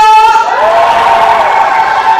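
Guests at a Yeongdeungpo wedding erupt again into loud group cheering and shouts, a thick wall of voices with a little clapping mixed in, sustained throughout.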